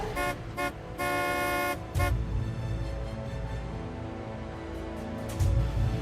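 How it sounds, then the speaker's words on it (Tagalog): Several loud car horn blasts, a couple of short toots followed by a long sustained honk, over rumbling traffic noise. "Dito pa ako busina ng busina."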